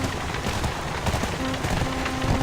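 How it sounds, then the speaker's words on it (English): Steady rain in Black Desert Online, a dense, even hiss of falling drops with no break and no talk over it, fairly loud throughout. "And it's raining."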